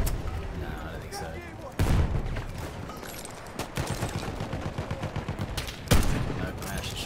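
Martini rifle shots in Battlefield 1, two sharp loud cracks standing out amid a busy battlefield of distant rapid gunfire, with talk over parts of it.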